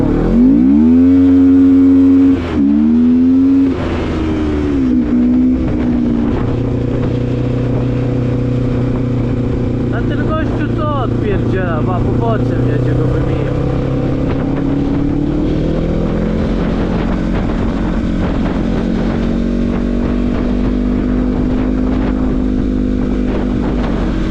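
A KTM motorcycle with a broken clutch cable revs loudly while riding, its engine note rising and falling in pitch and then settling into a sustained, droning pull amid steady wind noise.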